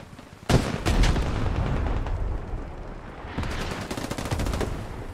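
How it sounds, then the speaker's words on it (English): In the video game Squad, hell cannon blasts and gunfire from an insurgent attack on Canadian troops land as loud, sharp booms over a continuous roar of battle. "Hell cannon firing all around the Canadians."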